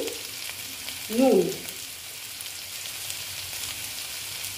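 Chopped tomatoes sizzle in a hot pan for a paneer bhorta, a steady close frying hiss with faint stirring scrapes, and someone briefly speaks over it.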